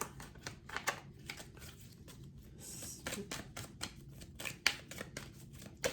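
Oracle cards being shuffled by hand, a quiet, close run of crisp riffling and slapping card bursts with brief pauses in between.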